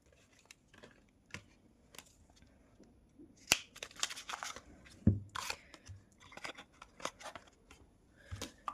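Tarot cards being shuffled by hand during a reading, a run of close, crisp papery riffles and flicks with sharper bursts midway, without any talking.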